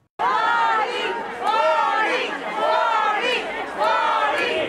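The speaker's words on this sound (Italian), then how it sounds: "La folla invoca a gran voce sindaco e assessori" A protest crowd in Venice, including gondoliers, tour guides and street vendors, shouting loudly in unison for the mayor and councillors, rising and falling in rhythmic waves of massed voices.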